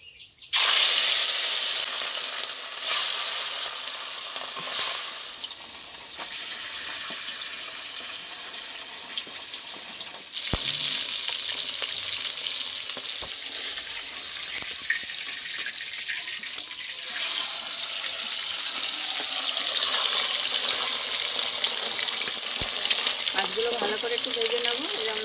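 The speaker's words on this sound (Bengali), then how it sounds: "তেলটা ভালো গরম হয়ে গেছে এবার আমি নুন মেখে রাখা মাছগুলো দিয়ে দেবো" Salt-rubbed fish frying in hot white vegetable oil in a pan makes a loud, continuous sizzling hiss that swells when the pieces go in and carries on steadily, with a few clinks and no voices.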